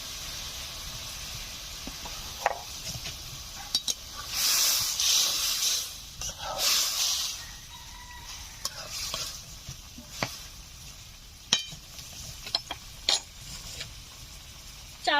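Fried spice mix stirred into a simmering village-style dhela fish curry with cauliflower, with bursts of loud sizzling and spattering, scraping stirring clicks and intermittent utensil knocks, close by and without speech.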